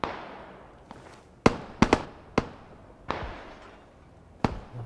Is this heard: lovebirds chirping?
no